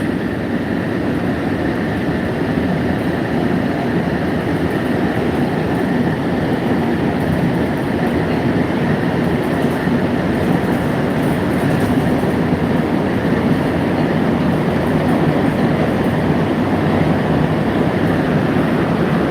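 A Montreal metro Azur train on the Orange Line rumbles steadily from inside the car, a continuous low roar with a faint whine, no voices, sustained throughout.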